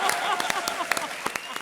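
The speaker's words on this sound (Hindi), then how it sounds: "दी एंड 250 करोड़ तालियां।" Scattered hand claps from a comedy show studio audience, sharp individual slaps at an uneven rhythm over a busy background, with voices around them.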